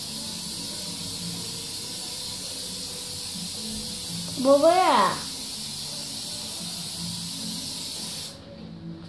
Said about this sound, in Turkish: Bu babacığım koruma spreyi.